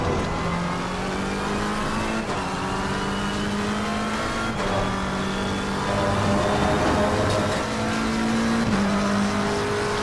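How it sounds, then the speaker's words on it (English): A race car engine in Assetto Corsa Competizione at Silverstone on PS4 Pro drones loud and steady, its pitch climbing and dropping sharply at gear shifts every couple of seconds. "Porsche coming back up behind me."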